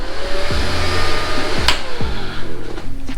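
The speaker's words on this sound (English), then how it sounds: "This is my fan." A small electric radiator cooling fan on a liquid-cooled Yamaha Zuma YW50 scooter whirs loudly and steadily up close, a constant airy hum with a few low tonal sweeps and clicks along the way.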